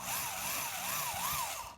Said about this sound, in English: we want to make sure that we don't have the drill bit walk around